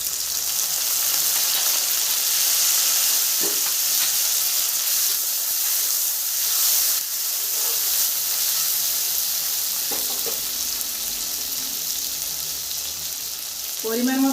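Chopped tomato fries in oil in a pan with onions for a mustard fish dish, giving a steady, loud sizzle throughout with a few faint scraping stirs and occasional soft clinks.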